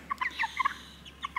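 Young chickens, too big for their brooder, give short, bright chirps and soft clucks in quick clustered bursts, close by but quiet, against a low background hum.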